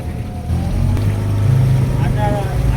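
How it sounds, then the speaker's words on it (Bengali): Chinese fishing boat engine droning steadily on a lake, a loud low rumble with water and wind noise, voices faintly mixed in. "যে বোট দিয়া মাছ শিকার করা হয় যেটারে চাইনিজ ফিশিং বোট খোয়া হয়"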